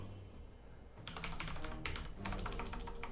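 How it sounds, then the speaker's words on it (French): Rapid, close clicking of computer keyboard keys in bursts while a name is entered in the South Park: The Stick of Truth game, with a brief pause before the typing resumes. "Ah, faut l'écrire au clavier."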